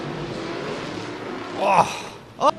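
A drift car at a competition event accelerates back over the finish line through its own tyre smoke, with a steady engine roar that swells into two sharper revving bursts near the end.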